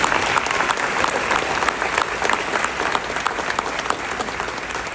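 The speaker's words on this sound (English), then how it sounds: "Let's please give them a round of applause" Sustained applause from a crowd at a Knox County Republican Reagan Day dinner, a dense, even wash of many clapping hands at a steady level throughout, honoring the sheriff and his deputies.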